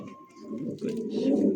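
Lahori pigeons coo in low, rolling murmurs that swell and overlap through the stretch, close and steady, with a thin high tone running underneath the first half.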